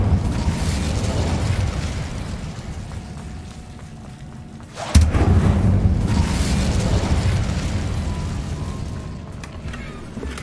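Incendio fire spell blast in Hogwarts Legacy: a rumbling fiery roar, then a sharp burst midway that swells into a louder whooshing blaze before slowly fading.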